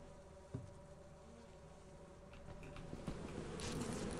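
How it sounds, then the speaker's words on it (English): Bees buzz in the video game Lethal Company as a faint, low, steady drone, broken by a sharp tap and a brief clatter of footsteps. "We should have just knocked out the bees."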